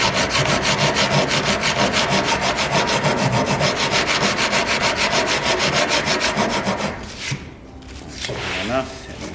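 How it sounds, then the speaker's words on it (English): A rasp file takes an edge off wood at an angle on a hollow wooden surfboard, making fast, even back-and-forth strokes up close that stop abruptly near the end. "I've just got a rasp file. I'm just going to bring that here and just take a bit of an edge off on an angle"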